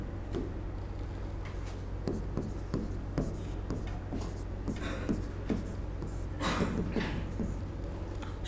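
A pen writing words on paper during a Hindi synonyms lesson, giving close scratchy strokes and light taps in irregular bursts over a low background hum.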